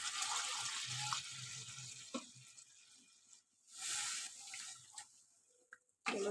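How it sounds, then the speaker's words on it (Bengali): Water poured into a pan of cooked-down spices for a fish curry, a close hissing, splashing pour that runs in several bursts with short gaps, fairly faint and without talk. "এবার আমি পরিমাণ মতো জল দিয়ে দেবো।"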